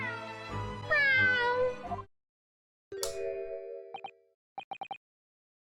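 A video game cat gives a couple of drawn-out, rising and falling meows, then a short pause before a brief synthetic chime and a quick run of small plinking game sound effects, all clear and close.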